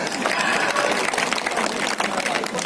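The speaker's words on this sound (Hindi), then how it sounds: "मित्रों तालियां बजा दो।" A live comedy audience in Darbhanga breaks into applause, a thick, sustained roar of many hands clapping close and loud throughout, with crowd noise mixed in.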